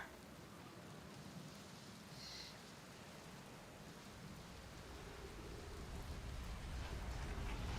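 Steady rain from a storm on an alien planet in a video game, a soft continuous hiss of drops with a low rumble building gradually toward the end, no voices.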